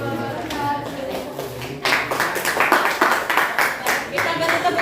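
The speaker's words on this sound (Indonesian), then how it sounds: "Kita beri tepuk tangan untuk kelompok 3" Applause for group 3 after their presentation in a mathematics class on trigonometric ratios, a dense patter of many hands swelling after a softer start and continuing steadily, close by in a room.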